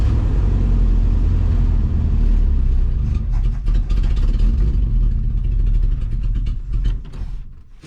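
A 1978 Ford F350 crew cab with a big block engine idles up close in a deep, steady low rumble that grows rougher and more uneven toward the end.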